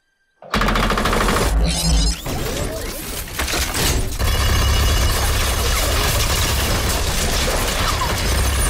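Dense rapid gunfire and heavy mechanical clatter from an animated Overwatch short, loud and continuous for several seconds after a sudden start, with crashing impacts mixed in.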